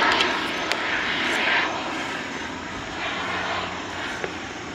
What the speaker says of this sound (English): planes messing with my audio.